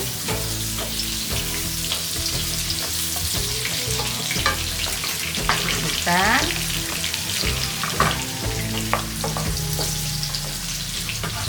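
Tempeh frying in a hot pan with oil, a loud, steady crackling sizzle with occasional stirring scrapes, continuous and close, while a voice speaks briefly.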